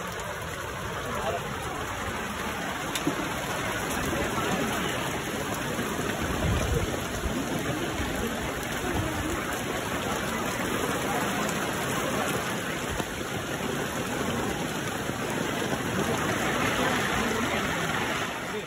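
Steady night rain falls around a tent stay in Munnar, a continuous broadband hiss of drops that holds evenly from start to finish, with faint voices mixed in underneath.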